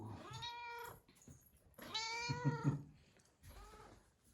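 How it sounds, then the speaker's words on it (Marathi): A cat meows three times, drawn-out and fairly close, with short pauses between calls. "हा बघा आमचा मांजरू"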